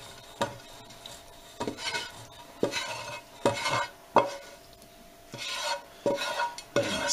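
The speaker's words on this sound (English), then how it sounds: "Add the mix to there and give it a good stir" Soup mix stirred into a pot of Italian soup, a spoon scraping and knocking against the pot in a series of separate strokes at a moderate level, no talk.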